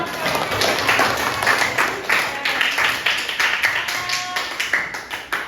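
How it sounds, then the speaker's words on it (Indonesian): Students clapping hands in a classroom, a lively burst of applause from a small group with uneven, overlapping claps, close and fairly loud, with voices mixed in. "Oke, tepuk tangan."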